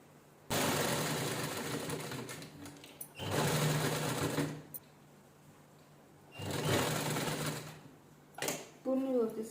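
Sewing machine stitching the inner lining of a jeans-style top made from a saree, in three long whirring bursts separated by pauses, close and fairly loud.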